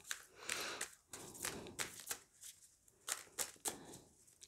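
A deck of tarot cards being shuffled by hand, repeated close riffling bursts in an uneven rhythm, clear and alone without talk.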